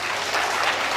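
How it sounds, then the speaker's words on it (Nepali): Wedding guests applaud steadily in a dense, even wash of many hands clapping, close and continuous without a break, with no voices rising above it. "ताली बजाएर"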